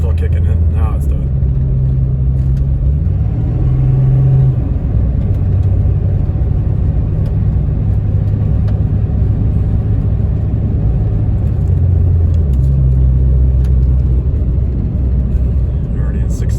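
A RAM pickup truck engine at about 1,000 RPM in 6th gear, a steady low drone and rumble with shifting low tones, continuous and close throughout the drive.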